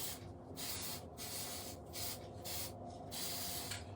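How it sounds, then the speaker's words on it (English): Spray paint hissing from an aerosol can onto a Halloween pumpkin in short repeated bursts with brief gaps, close and steady, no talking. "Let's spray this up again."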